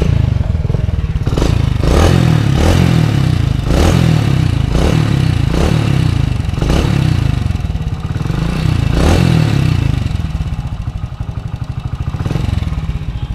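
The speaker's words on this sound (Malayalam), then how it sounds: "യൂറോ 1 സൈലൻസറാണ് വെച്ചിട്ടുള്ളത്, അപ്പോൾ അതിൻ്റെ സൗണ്ടാണ് നിങ്ങളിപ്പോൾ കേട്ടോണ്ടിരുന്നത്." A modified motorcycle fitted with a stock Euro 1 silencer idles with a deep, uneven thumping exhaust, blipped in repeated revs every second or so, loud and close with some mechanical clatter.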